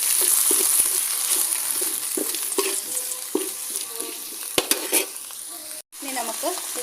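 Drumstick leaves stir and sauté in a pan for a Kerala-style drumstick leaf curry, giving a steady sizzle broken by repeated scraping strokes of a spoon, close and fairly quiet, with a brief pause near the end.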